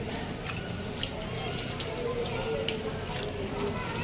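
A water tap runs steadily at a temple ashram while hands are washed under it, a continuous splashing hiss with faint background murmur.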